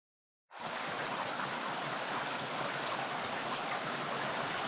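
Heavy rain falls on concrete and sod lawn, starting abruptly and then holding as a dense, steady hiss of countless drops with no pauses or voices.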